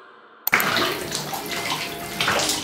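Cold shower water pouring steadily from the tank onto a person's body, a dense continuous splashing rush that starts abruptly after a moment of quiet and stays close and loud throughout.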